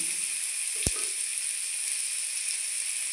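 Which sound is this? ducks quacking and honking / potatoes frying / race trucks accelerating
potatoes frying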